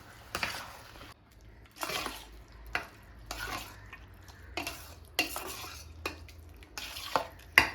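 Sakkarai pongal in ghee stirred in a pot, with repeated scraping strokes of a spoon against the vessel at a steady pace, close and clear, and a faint sizzle beneath.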